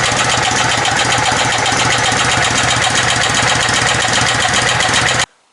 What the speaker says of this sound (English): That is as low as I've ever had the idle on this.